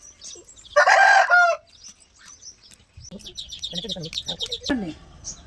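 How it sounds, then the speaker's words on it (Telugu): A country chicken (natu kodi) gives a loud burst of crowing, then a run of clucks and chirps that rise toward the end, with quiet gaps in between. "కోడి"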